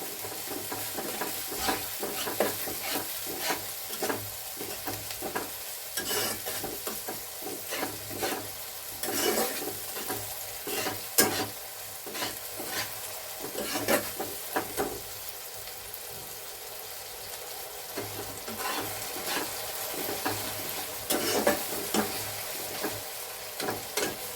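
Soya chunks and onion are stirred and fried in a pan with a splash of water, a continuous sizzle broken by frequent scraping and clattering strokes of the spatula over about twenty-four seconds.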